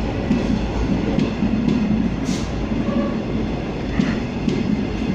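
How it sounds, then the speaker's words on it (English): Passenger train led by locomotive N452 arriving at Bacchus Marsh station, a steady rolling rumble of wheels on rails with brief squeals and clicks as it passes close by. "This was the 5:09 departure from Melbourne, who arrived at Bacchus Marsh."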